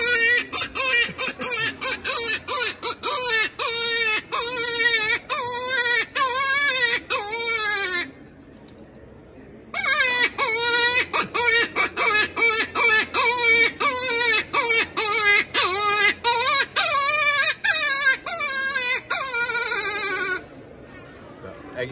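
A wavering, crying rabbit distress call, as when a hare is caught by a fox or other predator, imitated on a game call whistle in loud repeated wailing bursts with a short pause midway.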